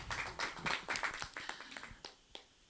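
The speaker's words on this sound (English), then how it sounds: "Yes, a round of applause" A brief patter of clapping from a small group at a webinar, sharp overlapping claps that thin out and fade to a few scattered ones.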